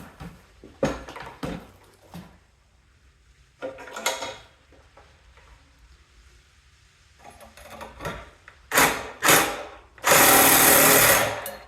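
An exhaust pipe clamped in a vise being cut with a power tool, heard as short intermittent bursts of cutting followed by a loud, sustained harsh grinding run near the end, all close up.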